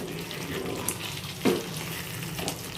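Bhuna chicken cooks in a pan with a steady low sizzle and frying crackle, broken by a few brief stirring scrapes and clinks, fairly close and without talk.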